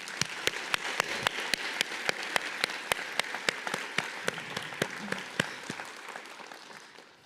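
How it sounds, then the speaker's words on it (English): A graduation ceremony crowd at a high school breaks into sustained applause, with sharp individual claps standing out in a steady rhythm before slowly fading. "Can we give them a round of applause?"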